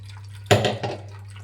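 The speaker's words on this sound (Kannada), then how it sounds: "ಕಾಯೆಲ್ಲ ಒಂದು ಸ್ಟ್ರೈನರಲ್ಲಿ ಸೋಸ್ಕೊಳ್ಳೋಣ." Ground coconut mixed with water, strained through a kitchen strainer for coconut rice, making a single short wet splash and trickle over a low steady hum.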